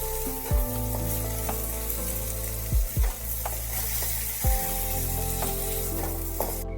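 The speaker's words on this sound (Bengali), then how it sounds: "দিয়ে দিচ্ছি সর্ষের তেল অল্প একটু, দিয়ে দিলাম ফোড়ন হিসেবে 5 ফোড়ন" Panch phoron, the Bengali five-spice mix, crackles and sizzles in a little hot mustard oil for a steady stretch, with a few louder pops and scrapes and a faint musical backdrop.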